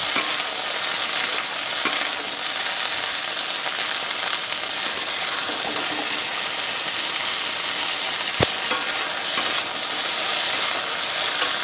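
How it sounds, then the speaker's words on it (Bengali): Okra frying in a pan with a little salt, a steady bright sizzle filling the background, with faint stirring scrapes and one sharp click partway through. "অল্প নুন দিয়ে আবারও নেড়ে চেড়ে কিন্তু একটু ভেজে নেব।"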